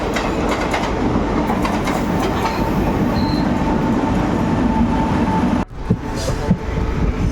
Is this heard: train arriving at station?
yes